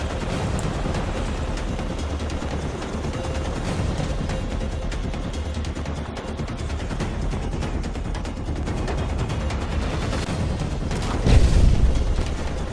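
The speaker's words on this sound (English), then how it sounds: "Grenade the hell out of them like I did there" Grenade blasts and gunfire sound in Modern Warfare 3 Spec Ops, a dense, constant rumble of combat with a heavier booming explosion near the end.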